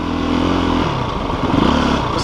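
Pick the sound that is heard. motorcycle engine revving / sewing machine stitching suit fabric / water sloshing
motorcycle engine revving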